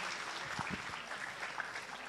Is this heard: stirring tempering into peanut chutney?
no